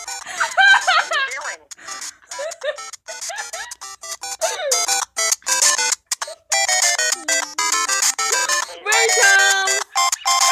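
Phone ringtones play in quick succession: bright, electronic, chirpy melodies with sharp stops and starts. They are loud and close, with giggling voices mixed in.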